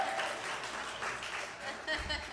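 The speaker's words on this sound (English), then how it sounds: "let's give them a round of applause" A short round of applause from a live audience at a Shopify and Female Founder World event, soft and somewhat distant, with voices talking over it.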